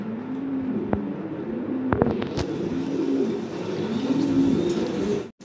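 Fancy show pigeons in a loft cooing steadily, a low rolling coo repeating throughout over a background hum, with a few sharp knocks and a brief dropout at the end.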